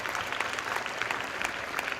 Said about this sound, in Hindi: तालियां बजाइए आप अपनी मां के नाम पे।